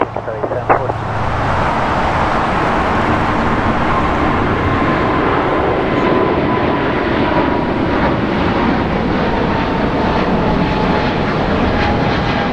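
A Qatar Airways Boeing 777-200LR on its takeoff roll from runway 25 right at LAX, a powerful, steady jet roar that holds loud and continuous with a slowly falling whine, without any speech.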